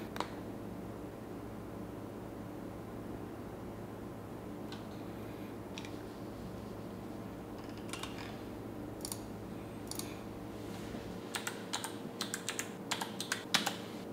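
Typing on a Bluetooth keyboard connected to a computer running Regata OS: irregular, fairly quiet key clicks that grow busier in the second half, over a steady low hum, with no one talking.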